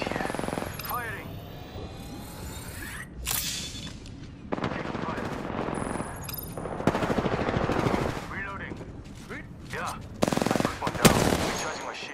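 Rapid automatic gunfire from a shooter video game rattles in repeated bursts of varying length, mixed with intermittent sharp impacts and effects, while a player talks throughout.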